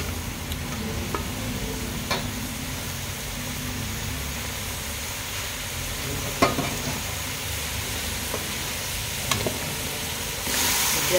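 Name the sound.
vegetables frying and stirred in a pan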